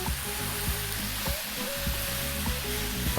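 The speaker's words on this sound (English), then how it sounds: "Now we're going to go for 5 minutes on your maximum heat. We really do need to fry the rice." Cooked basmati rice fries on maximum heat in a pan for vegetable fried rice, giving a dense, loud, steady sizzle over a low burner roar, with a few light stirring knocks.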